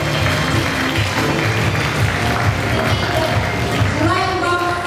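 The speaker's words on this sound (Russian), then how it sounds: "Провожаем аплодисментами номинантов душа класса." Applause for class nominees at an 11th-grade last-bell school ceremony, a continuous wash of clapping from an audience with voices mixed in and a brief tonal sound near the end.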